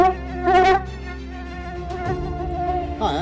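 Mosquitoes in the Canadian bush buzz close by on a day when the bugs are thick, a whining drone that swells and wavers as insects pass the ear, louder near the start.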